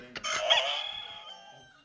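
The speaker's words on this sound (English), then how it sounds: "That was definitely the rooster." A rooster crows once, loud and close, its drawn-out call rising and then trailing away, heard as part of a sound-guessing quiz segment on a footy show.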